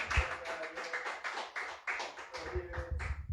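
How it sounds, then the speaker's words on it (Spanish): A congregation claps together in uneven bursts, mixed with raised voices, loud and close. "Dele fuerte aplauso al Señor."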